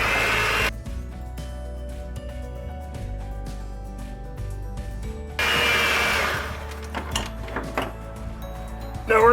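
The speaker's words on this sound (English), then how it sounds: "Take our mixer." An electric hand mixer whirs through sugar and cookie dough in a kitchen, starting with a brief burst, then a long steady run with a pitch shift partway as the beaters work the mix, ending with clunks.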